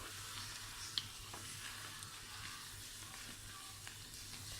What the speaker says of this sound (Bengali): এটা ততক্ষণ পর্যন্ত ভাজবেন যখন আপনার মনে হয় যে না ভিতরের পুরটা সিদ্ধ হয়ে গেছে